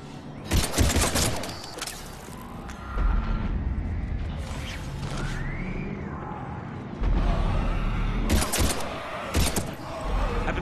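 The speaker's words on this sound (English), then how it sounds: "we're taking heavy fire" Heavy combat gunfire in the sci-fi shooter Mass Effect 3 during an alien invasion. Bursts of loud rifle fire come in clusters over a rumbling battle backdrop with whooshes and mechanical noise.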